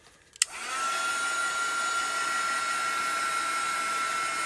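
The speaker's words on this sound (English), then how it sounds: "Let me make some noise and hit it with the heat gun really quick." A click, then a steady loud whir with a high whine starts and holds, a heat gun blowing continuously up close to dry glue on book pages.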